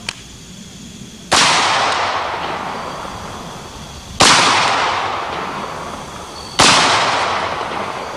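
Firearms fire three single, widely spaced shots, each a sharp, loud, close crack followed by a long, slowly fading echo, with no talking.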